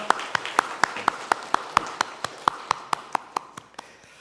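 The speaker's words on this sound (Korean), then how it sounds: "우리 함께 하신 하나님께 영광의 박수 올려드립니다" A single pair of hands clapping in a church, sharp evenly spaced claps about four per second, close and fairly loud over quiet room tone.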